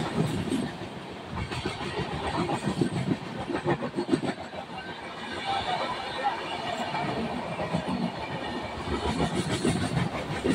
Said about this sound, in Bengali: পাশের লাইন দিয়ে বেরিয়ে যাচ্ছে জনশতাব্দী এক্সপ্রেস